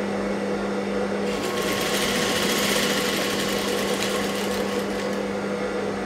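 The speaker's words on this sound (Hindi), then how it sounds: "सिलाई मारते जाना है" A sewing machine runs continuously while stitching piping onto a blouse, giving a steady, close mechanical whir with a constant hum and fast rhythmic needle clatter, with no pauses.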